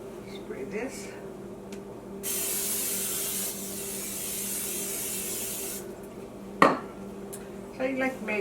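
A spray bottle used while making organic honey multigrain wheat bread, giving one long, steady hiss of a few seconds, followed by light kitchen clatter and handling noises up close.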